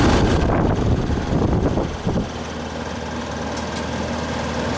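An old Ruud R22 air conditioning unit runs with a low, growly hum, louder at first with wind buffeting the microphone, then settling into a steady drone.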